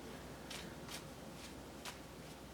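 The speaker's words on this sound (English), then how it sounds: "I'm going to shuffle up our animal totem card for our Capricorn friends" Tarot cards are shuffled quietly in a few soft, papery bursts spaced about half a second apart, with faint steady background noise.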